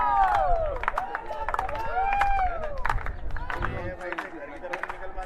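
A crowd at a 5000m race cheers and shouts encouragement, with loud whoops, whistles and scattered clapping blending into babble, while an announcer talks over it.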